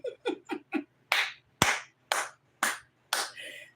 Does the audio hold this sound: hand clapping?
yes